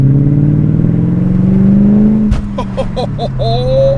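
A Mercedes-AMG car engine revs hard, pitch climbing steadily, then shifts gears with a series of quick blips and rising revs; loud and close.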